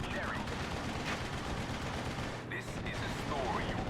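Gunfire from the World War II strategy game Steel Division: Normandy 44, with shots aimed at Panzergrenadier infantry. Steady crackling rounds and bursts run throughout at moderate volume, and a voice can be heard faintly beneath them.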